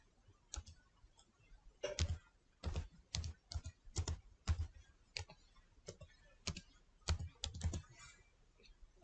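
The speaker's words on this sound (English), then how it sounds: "click on Start, then type Device Manager." Typing on a computer keyboard in Windows, a close series of crisp clicky keystrokes in uneven bursts and clusters, quiet and alone without speech.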